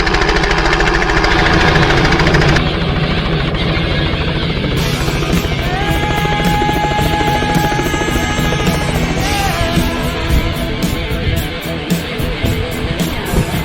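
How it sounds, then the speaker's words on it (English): Loud, continuous rotor and engine roar of a nearby helicopter, steady throughout, with a crowd murmuring and music faintly underneath. "Maybe you can't hear me over the helicopter."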